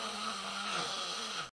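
Snoring from a sleeping partner, a steady low rasping drone that runs unbroken and fairly loud for about a second and a half before cutting off abruptly.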